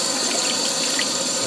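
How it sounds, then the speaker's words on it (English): Tap water splashes steadily over celery stalks being rinsed in a sink, a continuous close hiss of running water with no voices. "Just rinse off the dirt."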